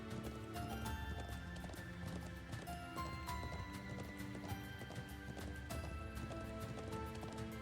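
Horse hooves gallop in rapid, rhythmic clip-clop beats in the video game Trails into Reverie, riding across the Nord Highlands, with game music and ambience underneath and a brief whinny.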